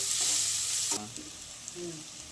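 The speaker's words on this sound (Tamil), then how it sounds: "எல்லாத்தையும் போட்டு நல்லா வதக்கிங்க. நல்லா வதக்கி நல்லா கொஞ்சம் கோல்டன் கலர் வரணும்." Steady hissing sizzle of onions sautéing in a pan, loud at first then easing, with a few stirring scrapes and clinks.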